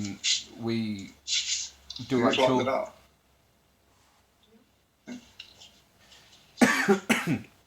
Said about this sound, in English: That was quite a dry cough, that what I just did.